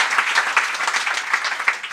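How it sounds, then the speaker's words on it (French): Steady, dense applause from a live audience at a Marseille stage show, many hands clapping together at an even level throughout, with no voices over it. "on peut applaudir les travailleurs sociaux"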